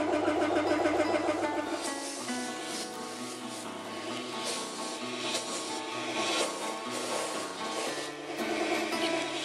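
Sandblasting the underside of a 1960 Chevrolet Impala hood gives a steady hiss and blast noise over a droning compressor, with uneven pulses and a continuous mechanical hum throughout.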